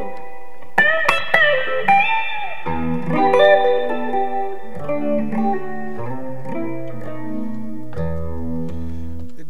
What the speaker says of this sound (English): This is a real vintage 70s Phase 100